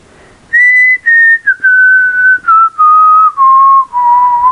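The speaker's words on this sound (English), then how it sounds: "I just started to aimlessly whistle Joy to the World." A single person whistles the melody of Joy to the World alone in a quiet multi-level parking garage, clear, steady sustained notes in a descending phrase, close and loud with no talking.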